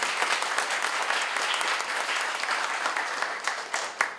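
Warm audience applause at a developer meetup for a presenter from the company DeepSearch, a dense, continuous burst of many hands clapping that holds steady throughout, with a few sharper claps standing out near the end.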